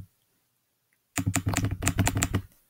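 Rapid, aggressive clicking bursts out after a second of silence, a fast close-up run of about a dozen sharp clicks lasting just over a second.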